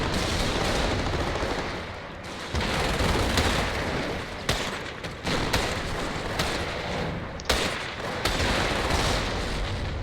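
Dense machine gun bursts and mortar blasts roar continuously across a narrow front-line battle in Company of Heroes, a loud, unbroken barrage with sharp cracks and thuds punctuating it.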